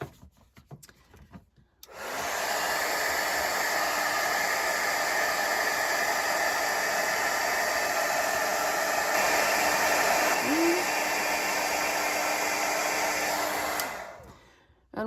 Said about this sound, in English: Now it's going to get noisy because I'm going to pull in my heat embosser.